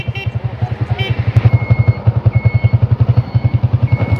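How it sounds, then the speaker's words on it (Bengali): A used Hero Honda 125cc motorcycle being ridden, its single-cylinder engine putting out a steady, close, even rhythm of thumping pulses that grows slightly louder. "আর বাইকটা অবশ্যই ভাই এখন চালায় দেখাবে আপনাদের যে বাইকটা কতটুকু স্মুথলি রয়েছে।"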